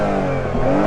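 A 2018 Toyota Camry V6 engine revs loudly nearby, a steady low mechanical roar that rises slightly in pitch.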